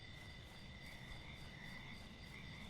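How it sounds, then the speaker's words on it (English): Continuous chorus of frog and insect calls in the video game Mudborne, a steady shrill trilling layered over dense low croaking that fills the whole stretch without a break. "Man, these frogs are getting everywhere."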